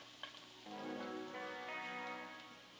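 Garlic and shallot sizzle in avocado oil in a pan, a soft steady frying hiss that swells after a brief clatter, heard alone without talk.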